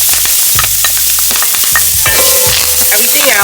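Pepper, thyme and onions fry in a pot as the base for curry crab, giving a loud, continuous close-up sizzle with stirring scrapes and knocks throughout.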